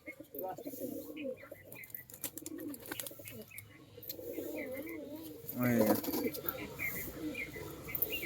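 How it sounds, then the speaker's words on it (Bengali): Andhra high-flyer pigeons, many sitting on eggs in a loft, keep up a steady low cooing chorus that swells midway, while people talk nearby over the birds. "প্রচুর পায়রা হয়ে গেছে ভাই আমরা"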